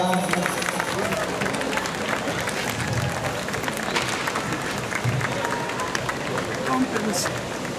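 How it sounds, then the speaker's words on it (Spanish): Applause from an outdoor crowd for cliff divers coming down from a high ledge, steady broadband clapping throughout amid crowd noise and some background talk. "damos un aplauso a los clavadistas que vienen descendiendo de la parte alta"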